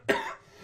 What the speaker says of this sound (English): I have to do a cough.